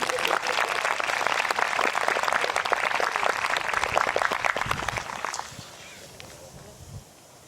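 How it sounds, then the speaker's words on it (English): A crowd applauds at an 8th grade promotion ceremony at Westlake Charter School, with dense clapping for about five seconds before it fades into quieter room noise and a brief voice. "round of applause for Ms. Haley, please"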